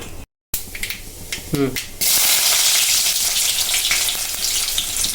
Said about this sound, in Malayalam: കടുക് പൊട്ടി വരട്ടെ